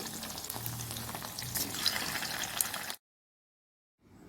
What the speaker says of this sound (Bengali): কড়াইয়ে তেল গরম করে আমি চিকেন বলগুলোকে একটু হালকা ভেজে নেব